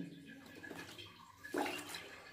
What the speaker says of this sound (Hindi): तो एक बार पानी चला के देखता हूं मैं